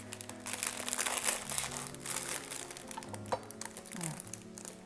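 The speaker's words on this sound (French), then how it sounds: "Enoki, il y a beaucoup de terre, donc moi je coupe souvent par-dessus le paquet" Enoki mushrooms being cut through their plastic package, giving quiet, close crinkling and crackling of plastic in irregular bursts with a few sharper snaps.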